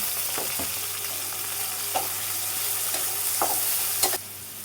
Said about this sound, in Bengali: বেছে পরিষ্কার করে ধুয়ে রেখেছিলাম চিংড়ি মাছগুলো দিয়ে দিলাম।